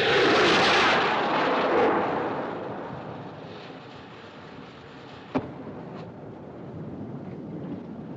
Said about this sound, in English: Looked like a rocket, sir.